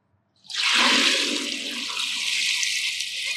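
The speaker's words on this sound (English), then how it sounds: "Drain that water off." Water draining off a LoCo Cooker crawfish boil pot into a cooler outdoors, a sudden loud rushing pour that starts abruptly and keeps gushing steadily, close by with no talk.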